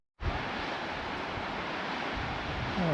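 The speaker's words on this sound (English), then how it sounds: "let's get a view of the whole waterfall area" Paradise Falls in the Bighorn Mountains roars as a steady, loud wash of falling water that starts abruptly and holds constant, with no voices.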